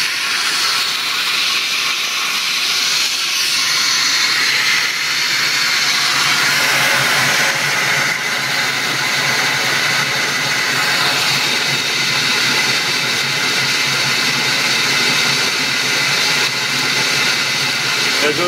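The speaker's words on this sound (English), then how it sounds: "There goes the combustion blower." A furnace combustion blower spins up on a unit with a current-proving hot surface ignition control, giving a loud, steady rushing hiss that swells in the first seconds and then holds evenly throughout.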